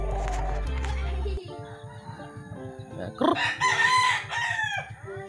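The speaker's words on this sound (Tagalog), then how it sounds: "Napaka laking manok mga idol." A large six-month-old rooster lets out one loud, drawn-out crow near the mic, preceded by clicks and low background noise.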